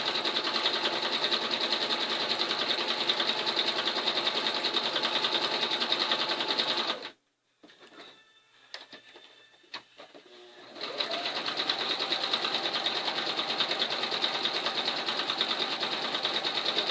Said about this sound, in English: Now I have my sewing machine on zigzag.